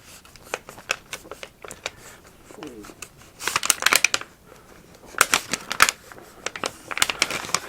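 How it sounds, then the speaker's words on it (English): Paper being peeled and pulled away from an archery bow during refinishing, heard as a series of crisp, close tearing and crackling rips, quiet at first and then louder in bursts, with no one talking over it. "A bit more paper to come off there"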